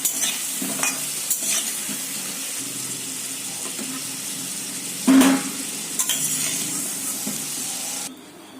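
Potatoes frying in hot oil in a kadai for a chicken and potato curry, with a steady sizzle and scraping stirring strokes, close and continuous with no talk.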